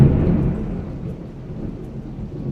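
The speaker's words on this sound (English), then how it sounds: "y'all hear that thunder?" Deep rolling thunder rumbles low and loud at first, then fades into a sustained, softer grumble with faint rain texture beneath it.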